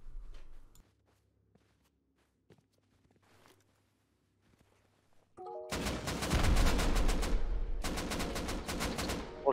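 Rockets and rapid heavy fire pound a farm base in a video game: near-silence with faint clicks, then a loud, dense barrage of rapid blasts, a short pause, and another sustained burst.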